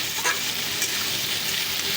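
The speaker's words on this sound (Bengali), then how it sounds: "রান্না হচ্ছে মুগ ডাল দিয়ে কুমড়ো" Ash gourd pieces frying in a pan for a mung dal dish make a steady, close hiss of sizzling oil with a few faint pops; no one speaks.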